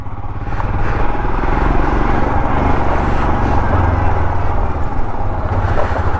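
Royal Enfield Himalayan 411 motorcycle being ridden, its engine a steady loud drone with wind rush throughout, close and continuous without pause.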